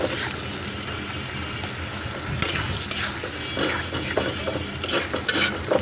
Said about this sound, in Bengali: এখন আমি মশলাটা সুন্দর করে কষিয়ে নেবো।